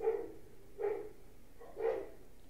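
Three barks from a dog, evenly spaced about a second apart, moderately loud with a quiet background.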